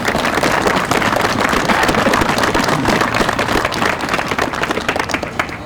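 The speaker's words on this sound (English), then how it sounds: "join me in a round of applause for all of their hard work" Dense, sustained applause from a large crowd at the New Bedford Veterans Day Parade, steady clapping that stays loud throughout and eases slightly near the end.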